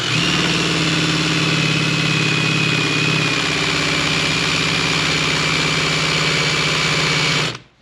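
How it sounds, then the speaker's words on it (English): A cordless drill fitted with an adhesive-removal wheel strips spoiler adhesive from a car body, giving a loud, steady motorised whir that holds at one pitch for several seconds, then stops abruptly. "I've got a cordless drill in the wheel, and you just start working."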